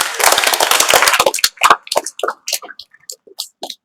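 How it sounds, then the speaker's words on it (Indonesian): A high school poetry-writing class at SMAN 1 Petir in Serang breaks into applause, a dense burst of clapping close by that thins into scattered, separate claps and trails off. "Tepuk tangan."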